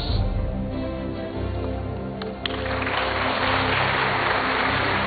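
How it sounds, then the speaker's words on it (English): An audience at a running mates political debate applauds, a dense, sustained wash of clapping that swells louder toward the end, with no speech over it. "acknowledge the applause"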